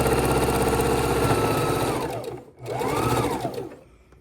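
A sewing machine stitches half square triangle seams on a scrap quilt top, running in a loud, rapid steady whir that slows and briefly stops, then spins up again and runs on.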